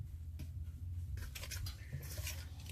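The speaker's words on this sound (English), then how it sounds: "I don't want to mix it too much once I add the flour, so I'm try to get all this incorporated." Vegan, oil-free banana bread batter being stirred in a bowl, with soft scraping and patter from a utensil against the bowl's sides, close and steady, with denser clinks in the second half.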